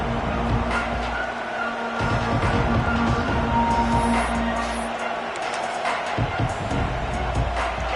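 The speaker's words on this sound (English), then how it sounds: "This crowd ready to make its presence known." A loud, sustained roar from a packed football stadium crowd fills the scene, with voices talking over the constant wash of noise.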